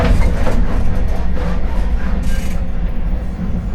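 A train in Taiwan, train number 4160 heading to Houtong Cat Village, rumbles steadily with a low mechanical roar and faint rhythmic clatter, loud and close, as if heard from onboard.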